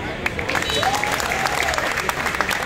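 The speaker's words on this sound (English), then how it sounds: "Big round of applause for Sunil Bhai" Crowd applause at a Changan car presentation in the Karachi Expo Center: steady clapping from many hands, fairly loud and continuous, with faint voices mixed underneath.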